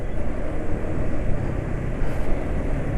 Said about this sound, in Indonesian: nggak terlalu kasar suara mesinnya